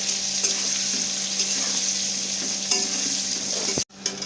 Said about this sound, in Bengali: আমি আলুটাকে লাল লাল করে ভেজে নেব।